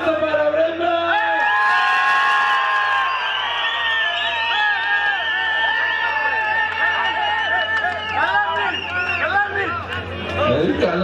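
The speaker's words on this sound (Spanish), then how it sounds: "¡Un aplauso para Brenda!" Karaoke crowd in full voice: loud cheering, whoops and excited chatter from a packed room, with shouting voices rising over the din throughout, steady and close.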